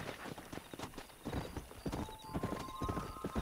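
A horse gallops across open terrain in the Red Dead Redemption video game, with quick rhythmic hoofbeats clopping continuously at moderate volume and a whinny heard faintly in the mix.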